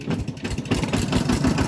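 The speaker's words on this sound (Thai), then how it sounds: "ทางไอ้ทงเพิ่นกำลังขับรถไถลงทางน้องสากันยา" A tractor engine running nearby on a farm track, a low, steady chugging rumble with a slight rhythmic pulse and no speech over it.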